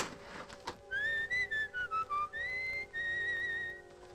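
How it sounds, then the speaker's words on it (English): Someone whistles a song in a 1958 Charlie Chan thriller: a clear, melodic run of short and sustained notes, close and fairly loud over a faint background hum. "Do you have to whistle that song?"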